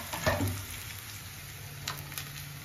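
Capsicum frying with browned onions in a pan, a steady sizzle with a brief clatter of a spoon stirring near the start and a few light scraping taps later, no voices.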